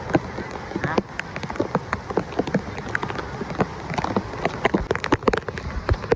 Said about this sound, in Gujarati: અહીંયા અત્યારે ચાલુ છે વરસાદ